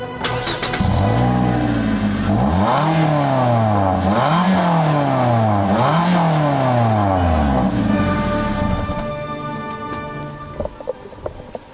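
A Toyota Corolla engine is started and revved repeatedly, its pitch swooping up and falling back in three or four loud surges before settling to idle.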